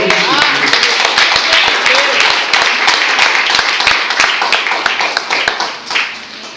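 Steady church congregation applause with rapid, overlapping claps filling the space, loud and sustained before tapering off near the end.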